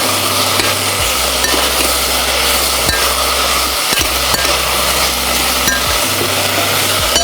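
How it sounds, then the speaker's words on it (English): Carrots stirred quickly in a pot for a vegan one-pot meal, with loud sizzling frying and a spoon scraping and clinking against the metal in a repeating rhythm. "So now we're adding our carrots. And again, we're going to stir it quickly."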